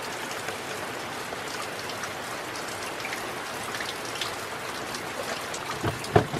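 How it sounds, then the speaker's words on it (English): Steady rain falls across the whole clip in Victoria's High Country, a dense even patter of drops with a few louder splashes near the end. "It's not stopped raining for 24 hours, I reckon."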